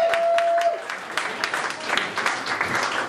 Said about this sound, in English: Round of applause for Rick Jenkins and my beard, ladies and ge